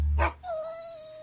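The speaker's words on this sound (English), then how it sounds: "there's a dog." In a children's song, a dog gives one sharp, close bark, followed by a thin, fading whine as the music drops away.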